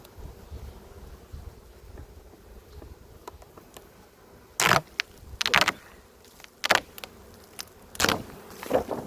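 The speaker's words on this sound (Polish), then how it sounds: "Pszczoły już dosyć mocno fikują." Steady honeybee buzzing hums in the background around a hive, with several loud close passes of bees flying right by, punctuated by sharp bursts.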